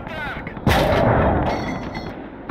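Tank gunfire lands with a heavy, booming impact in a WWII strategy game battle, one sudden loud blast that rumbles on under a dense wash of battlefield noise.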